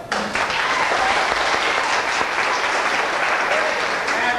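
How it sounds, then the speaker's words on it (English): A studio audience applauds loudly on cue, a dense, steady wash of clapping that runs unbroken from start to finish. "I need everyone to applaud very loudly."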